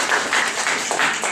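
Audience applause at an evening talk on Ayurvedic medicine in Sopron, a dense, close burst of clapping with slight swells, brief and uninterrupted.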